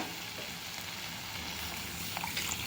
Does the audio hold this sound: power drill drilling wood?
no